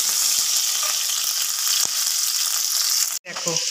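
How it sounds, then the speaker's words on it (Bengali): Chopped capsicum fries and is stirred in a pan, a loud steady sizzle with a few scraping knocks of the spoon, ending in a sharp clatter and a brief dip. "দিয়ে এবার ভালো করে নাড়াচাড়া করবো।"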